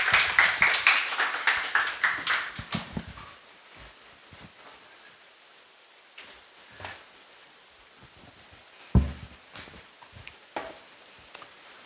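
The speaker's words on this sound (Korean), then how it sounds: "우리 강사님 나오실 때 뜨겁게 박수로 맞이하도록 하겠습니다" A church congregation applauds to welcome a guest preacher at a Sunday service. A warm burst of clapping fades after about three seconds into quiet rustles, faint footsteps and a single thump.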